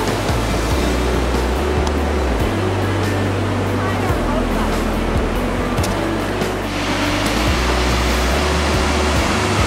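Ocean surf on a shoreline along the Cape Scott Trail, a loud continuous wash of waves with a steady breeze roar and a low rumbling undertone throughout.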